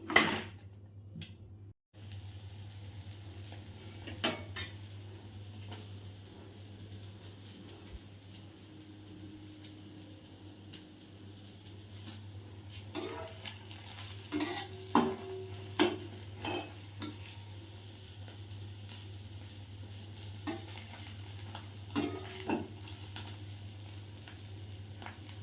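A plain two-egg omelette fries in oil in a kadai, giving a steady low sizzle close by with scattered scrapes and clicks from stirring, busier toward the end; no one speaks.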